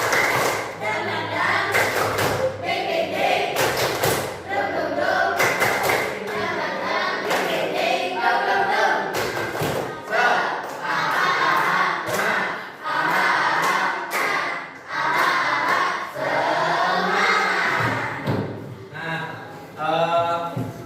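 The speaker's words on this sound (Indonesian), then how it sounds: "Tepuk semangat baru." Sixth-grade pupils in a Tasikmalaya elementary classroom clap out a new spirit-clap rhythm, bursts of unison claps and thumps alternating with children's chanting voices over about twenty seconds.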